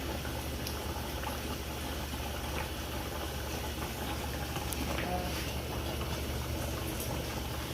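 Jamaican stew peas with spinners simmering in a pot, a steady low bubbling rumble that holds at an even level for several seconds, close by and uninterrupted.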